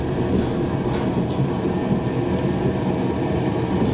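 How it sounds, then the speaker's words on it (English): A train arriving at a station in Merseyside, a steady loud rumble of wheels and carriage noise rolling close by, continuous for the whole stretch with no voices. "train's getting 3 minutes early."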